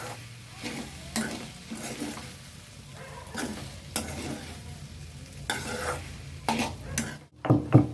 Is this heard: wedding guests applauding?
no